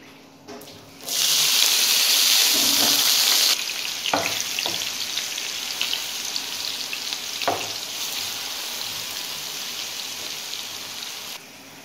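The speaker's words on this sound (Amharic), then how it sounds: "አሁን ደግሞ እዛው ዘይቱ ላይ ሽንኩርቱን አቆላላበታለሁ" Onions being fried in oil left in the pan after potatoes, a loud steady sizzle that surges as they go in, with a few clinks and stirring knocks, no talk.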